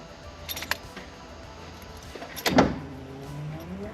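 Windshield wipers on a Datsun 240Z run with a low motor whir, punctuated by a few sharp mechanical clicks and thumps as the arms sweep, one stroke louder than the others.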